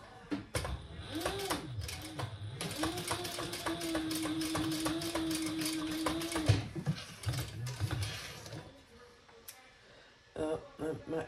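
A sewing machine runs a short 1/8 inch top stitch along the folded ends of a fabric tote, its motor whirring steadily for a few seconds between quieter mechanical clicks, with a voice talking over it.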